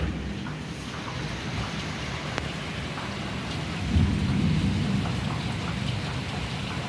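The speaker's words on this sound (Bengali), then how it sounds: "প্রচুর বৃষ্টি হচ্ছে," Heavy rain pours steadily outside a house, a dense continuous hiss, while a deep roll of thunder swells about halfway through and rumbles on under the downpour.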